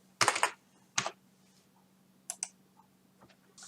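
Keystrokes on a computer keyboard come in two short close bursts, then a few lighter scattered taps, close by over a faint steady hum with no talking.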